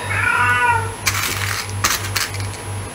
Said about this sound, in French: J'ai mon chat qui miaule comme d'hab.